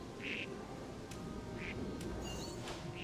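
Ducks quacking in the video game New Pokémon Snap, two short quacks over a steady ambient game soundscape, with a few faint clicks and a brief chirp near the end.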